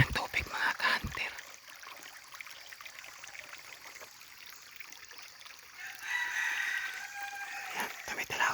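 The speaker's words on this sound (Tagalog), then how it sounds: "tumitalawag pa rin ang ating pangating labuyo" A wild red junglefowl crows in the distance, its call faint against the constant rush of a nearby creek.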